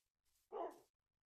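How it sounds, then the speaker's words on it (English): A single short bark from a wolf in Minecraft, a quick faint lead-in and then a brief, sharp yap, heard alone. "Bark."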